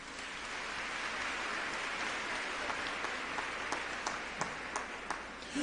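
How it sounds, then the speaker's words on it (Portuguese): Audience applause in a Catholic church talk setting, a steady broadband wash of clapping from a crowd with a few sharper individual claps standing out, moderately distant and fairly soft. "Pode aplaudir."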